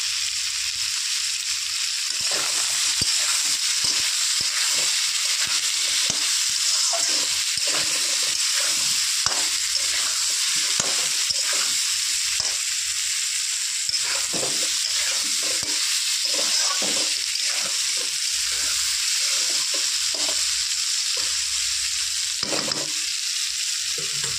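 Potatoes and pointed gourd sizzle steadily in hot oil with turmeric and salt, a constant close frying hiss broken by frequent stirring scrapes and clatters.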